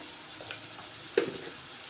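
Onions and green chillies sizzle steadily as they fry in a pan, a soft continuous crackle with one brief louder spatter near the end.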